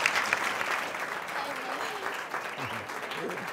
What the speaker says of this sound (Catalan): Li fem un gran aplaudiment.